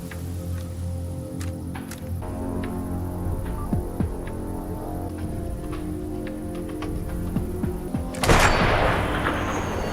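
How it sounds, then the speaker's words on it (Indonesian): A sniper rifle shot in a film rings out as a sudden loud blast near the end, preceded by a steady low hum and faint clicks of tension-building sound. "Setelah mengaktifkan perekam video dari sebuah kamera, Seri pun akhirnya menembak senapan snipernya"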